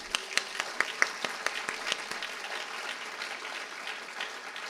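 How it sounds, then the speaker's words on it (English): An audience at a university inauguration event for a new academic major breaks into applause, a fairly distant wash of clapping with a few sharp claps standing out early before settling into steady, moderate applause. "So a round of applause for our community here"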